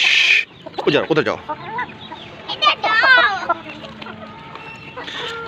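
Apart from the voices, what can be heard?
chickens clucking while eating roti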